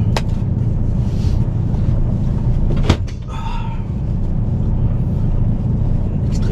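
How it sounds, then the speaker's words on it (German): Strong, extremely cold morning wind roars and buffets the microphone steadily outdoors, with a brief sharp knock partway through. "Extremer Wind heute Morgen."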